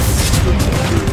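A grenade blast in the shooter game Guardians of Orion, on a winter map, booms loud and dense through the whole moment with rumbling low end and crackling gunfire-like bursts layered on top.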